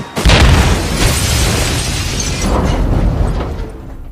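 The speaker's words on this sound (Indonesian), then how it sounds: "Mereka akhirnya berhasil menemukan laptop Ian dan membuangnya tepat saat bom meledak." A bomb goes off in an action film about terrorists, a loud blast with a sudden onset followed by several seconds of sustained rumbling debris noise, with no talk.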